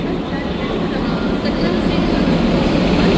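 A Ratnagiri special passenger train on the Konkan Railway stands at the platform, giving off a loud, steady rumbling hum. Muffled voices can be heard faintly underneath.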